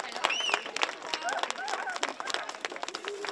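An audience applauding at a school event, dense clapping close by with a few whoops and voices mixed in, steady throughout.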